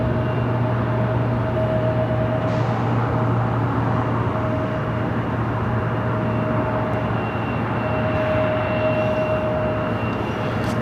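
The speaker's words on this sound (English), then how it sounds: "Other E-jets about to touch down here on runway 24 right" Embraer E-Jet touching down on runway 24 right at LAX, a steady loud jet roar with a sustained whine holding throughout, no voices.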